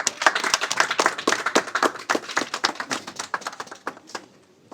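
An audience at an event held by a Russian Federation election observation delegation applauds: dense, bright clapping from many hands, loud at first, then thinning and fading away over the last second, with no talk.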